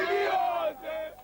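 A crowd in the tough streets of Accra, Ghana's capital, yells and cheers around boys squaring up to fight, a short loud burst of overlapping shouting voices that fades slightly.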